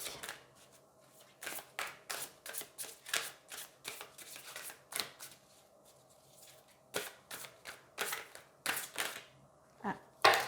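Tarot cards are shuffled and handled up close, with a long run of quick papery riffles and slaps that finish as a card is drawn and flipped. No one speaks.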